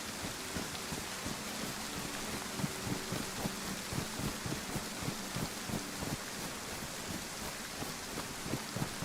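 Steady heavy rain pours in the survival video game DayZ, a dense continuous hiss with patter of drops on surfaces, loud and constant throughout with no voices.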